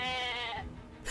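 A single short goat bleat from the video game Atelier Ryza, a wavering, nasal cry heard alone and fairly faint, fading out after about half a second.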